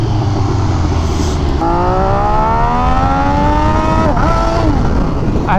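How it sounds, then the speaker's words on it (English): MV Agusta Superveloce motorcycle with an SC Project exhaust accelerating, its loud close engine note climbing through the revs with a clear gear shift, then pulling again, heard from the rider's position. "I love the sound of the shifts"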